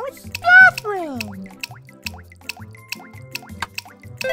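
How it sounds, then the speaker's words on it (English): Water drips in the bathroom of an Elmo-themed Sesame Street Go Green iPad game, with rhythmic plinks over playful synthetic tones, while a voice speaks near the start. "No more drips here."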